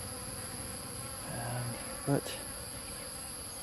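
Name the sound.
bees buzzing around rocks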